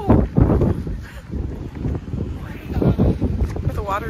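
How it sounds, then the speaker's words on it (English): Strong, cold wind near the water roars and buffets the microphone in loud gusts while people talk over it. "look how windy it is."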